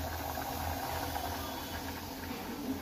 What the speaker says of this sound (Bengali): এখানে হচ্ছে ডাল সেদ্ধ।